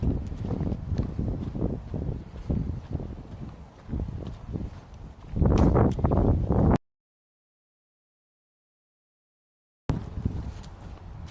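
Cold wind blowing outdoors during a coffee run, a rough continuous rumble buffeting the microphone with footsteps mixed in, then a sudden cut to silence before the wind noise returns.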